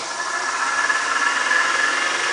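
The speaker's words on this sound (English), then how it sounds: "When we turn on the contactor, the motor should come on and run." A series-wound DC electric motor for an electric vehicle conversion runs on 12 volts, switched on through a contactor, with a steady whine and a constant hum that holds at an even level with no voices.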